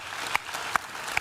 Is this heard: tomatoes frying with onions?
no